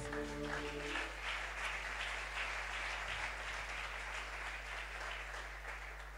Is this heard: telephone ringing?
no